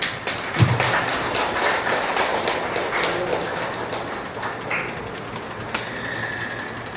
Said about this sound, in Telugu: అక్కయ్యలు క్లాప్స్ కొట్టాలి ఇప్పుడు